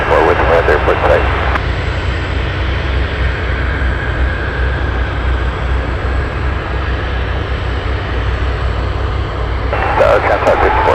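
Aircraft at Anchorage airport, a steady loud jet engine roar that holds throughout, with bursts of radio chatter at the start and end.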